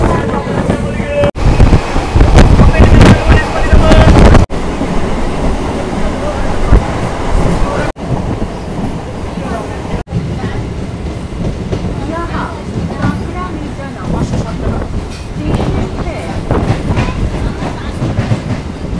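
A passenger train runs with a continuous loud rumble and rattle, wind buffeting the microphone, and a few abrupt cuts between takes.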